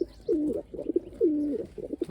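A pigeon coos in repeated low, throaty phrases, close and clear, with short pauses between calls at a pigeon loft of Hungarian pigeons and chicks.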